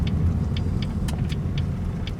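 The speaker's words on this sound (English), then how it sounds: "the vehicle is driving down the road" A 2003 Jaguar X-Type with a slightly off steering wheel after hitting a curb drives along a road, a steady low engine and road rumble heard from inside the car, with a few faint clicks and no talk.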